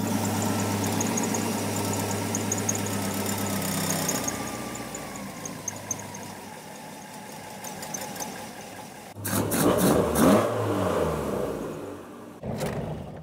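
A car engine fitted with a Facet fuel pump idles steadily with a low, even rumble, then revs up into a louder, rougher burst near the end before settling again.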